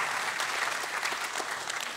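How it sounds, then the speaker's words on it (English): Audience applause at a church gathering, a dense, even wash of many hands clapping at moderate distance, steady and unbroken for the whole stretch with no voices over it. "Let's give Don a round of applause"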